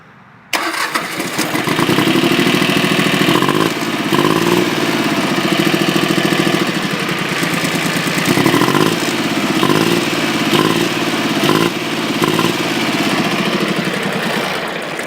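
A tractor engine cranks and catches, then settles into a steady, loud, close idle with a rhythmic throb that runs without a break.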